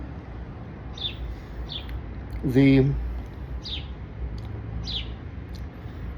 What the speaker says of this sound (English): Hello, little bird.